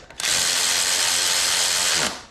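Power tool, likely an impact driver, running on engine flywheel bolts in one loud, sustained whirring burst of about two seconds that cuts off abruptly.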